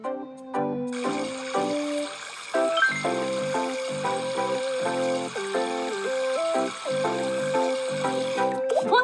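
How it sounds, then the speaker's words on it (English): Water rinsing a dog in the My Talking Tom mobile game, with bubbly liquid squishes and splashes under bright, cheerful game music that plays throughout. "rinse your dog."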